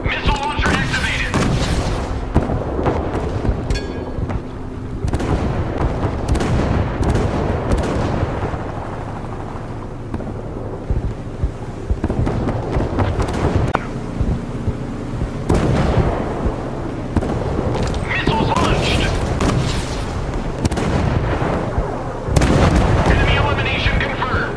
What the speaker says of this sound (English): Missile launcher activated!